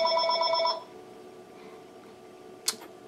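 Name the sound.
telephone ringing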